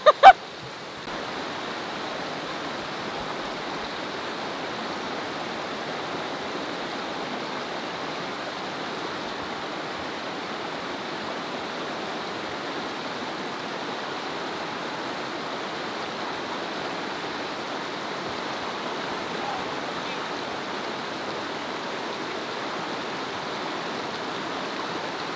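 Knee-deep river rapids in Lawn Hill National Park, a broad steady rush of flowing water holding constant for the whole stretch after a couple of sharp knocks at the start, with no talk over it.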